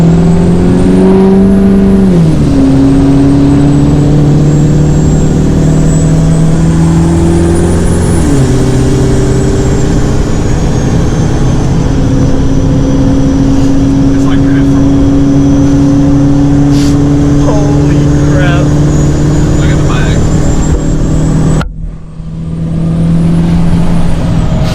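An 800-horsepower 2005 Ford F-250 with a 6.3L Powerstroke diesel drives past, its engine droning loud and steady, rising in pitch twice as it revs and shifts, then cutting off briefly near the end.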